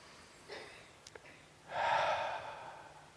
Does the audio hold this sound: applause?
no